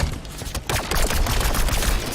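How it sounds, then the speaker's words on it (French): A rapid, dense burst of explosive weapon blasts in Halo 5 crackles continuously, loud and close, with a brief dip before the volley resumes. "L'arme elle fait des explosions dans tous les sens."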